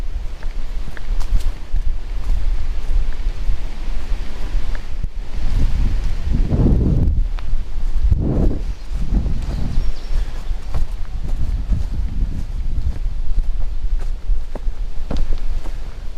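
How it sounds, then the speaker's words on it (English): Wind buffets the microphone on an open prairie hike at Rice Lake State Park, Minnesota, producing a steady loud low rumble with stronger gusts swelling midway, alongside faint rustling and footsteps. "Now we're heading directly into the wind, so The pop filter is being tested."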